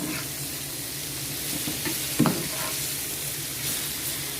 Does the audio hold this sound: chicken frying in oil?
yes